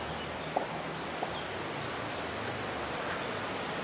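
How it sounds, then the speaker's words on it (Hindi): Steady broadband rush of a river flowing below a hillside heritage mud-house homestay in Jibhi, Himachal, heard from an open outdoor seating area as a constant distant wash with two faint brief clicks. "अगर आप यहाँ खड़े होंगे तो यहाँ आपको नदी की आवाज़ सुनाई देगी।"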